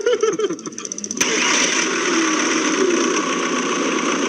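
A car engine cranks briefly with rapid chugging, then catches and settles into a steady idle, recorded close by in a workshop where the engine was running unevenly.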